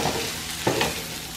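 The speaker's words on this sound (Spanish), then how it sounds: "voy a dejarlos otro ratito que se frían aquí con todas las rajitas" Poblano pepper strips and chickpeas frying together in a pan, a dense close sizzle with a couple of quick spatula scrapes midway and no voices.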